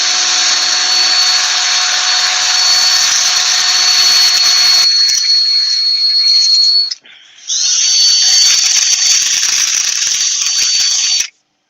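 A wooden bowl being power sanded, a steady loud whirring grind that runs almost continuously, breaking off briefly once before starting again, with no talking over it.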